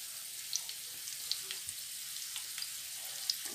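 Potatoes fry in a pan as chili flakes go in, making a faint, soft sizzle with scattered small pops and crackles.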